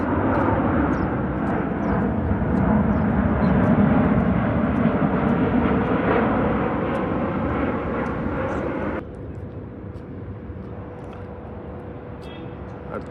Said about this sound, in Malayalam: അടുത്ത ഫ്ലൈറ്റ് വരുന്നുണ്ട്, കാണാൻ പറ്റുന്നുണ്ടാവുമെന്ന് വിചാരിക്കുന്നു.